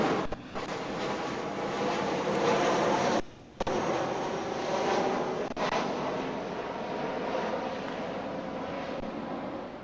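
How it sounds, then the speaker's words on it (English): An aircraft flies over the Northeast Delta Dental Stadium during a baseball game, a broad, steady roar lasting the whole ten seconds, loud and even with a brief dip partway through. "And another flyover here at Northeast Delta Dental Stadium."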